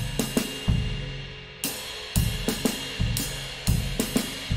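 A jazz drum kit plays a broken-time motif three beats long, with close, loud cymbal washes and drum strikes repeating in a steady cycle, with no voices.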